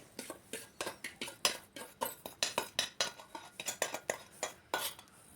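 A spoon stirs roasted ragi flour with ghee in a bowl, making quick rhythmic scraping and clinking strokes against the vessel, close and fairly quiet, with no talk.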